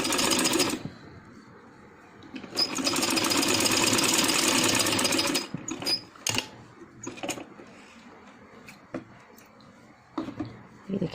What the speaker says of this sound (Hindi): साथ हम इसको सिलाई लगा लेंगे